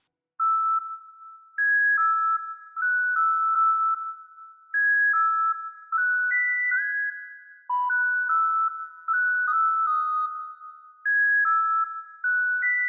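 Counter melody for a beat built in FL Studio: a bright, bell-like synth plays short repeating notes in a steady pattern, clean and isolated with no drums or voices.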